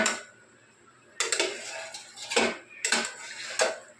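A metal bowl is set over a cooking pot of steamed hilsa with coconut, making several sharp, ringing clanks in three separate bursts with quiet pauses between them.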